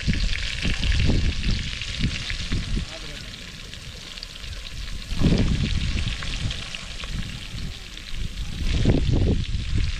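Onions frying in hot oil already used for frying river fish, a steady broad sizzle with bursts of stirring and scraping, close and fairly loud, with brief moments of voices in the background.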